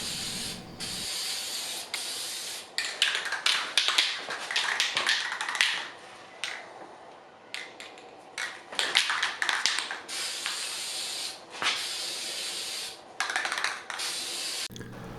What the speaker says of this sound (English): It's recommended to spray at least 3 top coats of this product